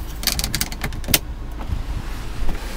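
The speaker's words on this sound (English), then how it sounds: "Here's your moonroof option." Power moonroof on a 2005 Audi A4 2.0T opening, a short whirring motor hum with faint clicks and interior thumps, heard up close inside the car.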